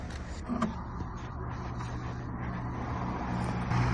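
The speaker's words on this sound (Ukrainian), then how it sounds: "Електричний підйом багажника." The electric tailgate of a 2012 Mercedes GL 350 3.0 diesel runs with a steady motorized whir and faint mechanical clicks, close and continuous for several seconds, with no talk.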